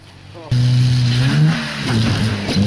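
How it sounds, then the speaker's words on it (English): A Chevette car engine revs loudly and roughly while failing, its tone wavering and sputtering, with a person's voice briefly audible over it. "Oh, that sounds really bad. Oh. Goodbye, car."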